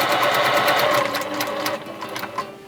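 A professional sewing machine runs a long basting seam on a wrap dress, a fast continuous mechanical stitching whir, loud and close, slowing and stopping near the end.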